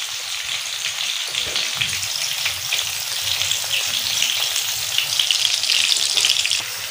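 Spiced Lahori-style fish fries on a hot tawa griddle with a dense, steady crackling sizzle throughout, close and loud, with no voices.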